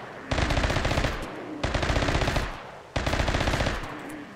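Three long bursts of rapid automatic gunfire from the video game RimWorld, each a dense rattling volley lasting over a second, separated by short pauses, loud and dominant.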